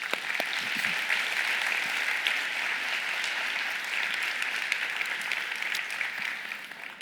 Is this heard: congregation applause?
yes